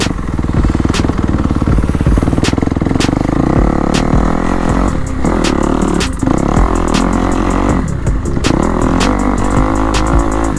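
A motocross dirt bike rides an MX track at Pax Trax in Daytona, Florida, its engine droning loud and close throughout, with rises in revving and a rattling clatter.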